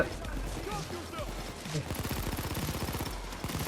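Fast, sustained automatic gunfire rattles through a Payday 2 heist. The shots are dense and steady, and players talk over the shooting.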